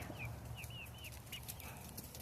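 Backyard chickens making soft, scattered clucks and short murmuring calls, faint and close-ish against quiet outdoor background.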